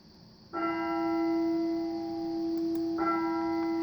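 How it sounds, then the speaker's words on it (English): A church bell in the Trainz Railroad Simulator 2004 video game strikes twice, each a clear resonant toll with a long sustain, the second coming about two and a half seconds after the first over a faint steady hum. "This one also has a church bell that rings."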